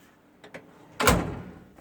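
A drawer on a Harbor Freight 56-inch steel toolbox slides open with a couple of light rattles, then a single louder rolling clunk as it runs out, heard up close in a quiet garage.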